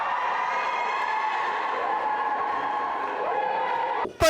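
A large crowd at a cheer dancing competition in Italy cheers and shouts continuously at a distance, a dense steady roar of voices, ending with a sudden loud knock.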